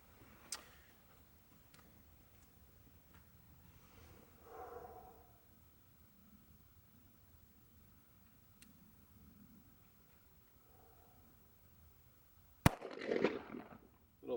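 Four shots from a Taurus PT 92 pistol fired at a target 30 feet away ring out as sharp, spaced cracks, with a louder cluster of blasts near the end over faint outdoor range noise.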